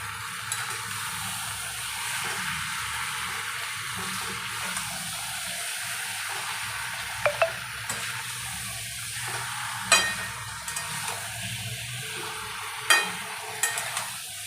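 Marinated chicken coated in salt, turmeric, Kashmiri chilli powder and mustard oil sizzles steadily in a hot pan for a homestyle Bengali chicken curry, with a few sharp clicks and scrapes of stirring over the constant fry.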